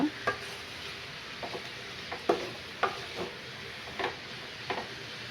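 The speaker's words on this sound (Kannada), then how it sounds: "ಹಾಕ್ಕೊಂಡು ಫ್ರೈ ಮಾಡ್ಕೊಳ್ಳೋಣ ಸ್ವಲ್ಪ 1-2 ನಿಮಿಷ" Bitter gourd frying in a pan with tamarind juice, a quiet soft sizzle broken by scattered light stirring clicks and scrapes, with no talking.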